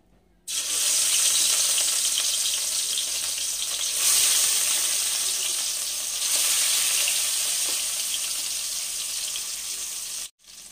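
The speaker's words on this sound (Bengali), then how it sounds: "ওই মাছগুলো আমি ভেজে নেব" Turmeric- and salt-rubbed katla fish pieces frying in mustard oil, a loud continuous hiss-like sizzle with no talk, swelling slightly twice and cutting off abruptly at the end.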